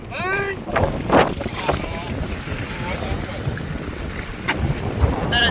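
Waves slap against a fishing boat at sea, with strong wind buffeting throughout and brief voices near the start.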